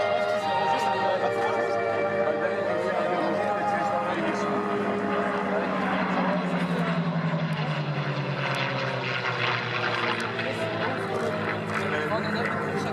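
A Curtiss P-40 Warhawk and a North American TF-51D Mustang fly past at an air show, their piston engines and propellers droning loudly and shifting in pitch as they go by, with people talking throughout.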